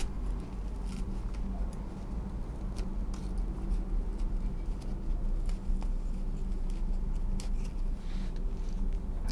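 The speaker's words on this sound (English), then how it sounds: "So this sponge has a piece of Scotch-Brite on it, so I just want to cut that off and keep the sponge." Scissors snip through a Scotch-Brite scouring pad to separate it from a kitchen sponge, a run of small crisp cuts over a steady low background hum.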